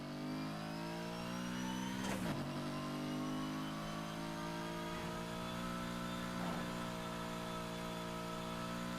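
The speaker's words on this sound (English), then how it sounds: "I don't like how the engine sounds" Video game car engine revving steadily with layered harmonic tones, a loud, continuous, close drone with brief surges partway through and no talking.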